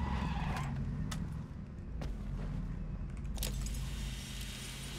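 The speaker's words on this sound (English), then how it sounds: "I hear another car under me" Car driving in PUBG, a low engine rumble throughout with brief sharp clicks and skids over it, moderately faint and continuous.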